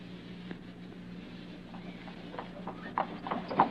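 A horse's hooves clip-clop at a slow, steady pace in a radio drama, faint and distant at first. The hoofbeats grow louder and closer toward the end.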